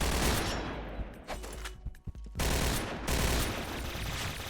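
G11 gun firing in the video game Point Blank, with rapid bursts of close gunfire, a brief pause of scattered single shots, then sustained fire resuming.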